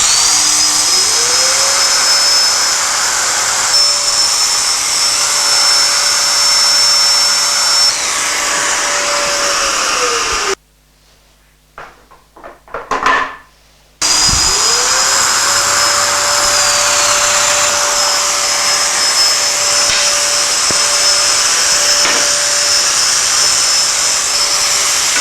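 Festool Domino joiner cutting 10 mm slots in wood: a loud, steady high-pitched motor whine runs throughout, broken by a short gap of quieter clicks and bursts midway before the motor resumes.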